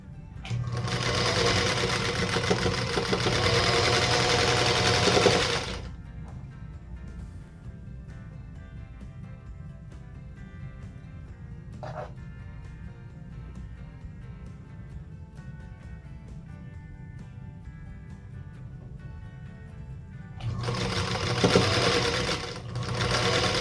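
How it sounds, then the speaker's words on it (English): A sewing machine chain-pieces quilt block units in two steady, fast-stitching runs close to the listener. A quiet pause with faint handling noise separates the runs. "I am going to do a little bit of chain piecing here."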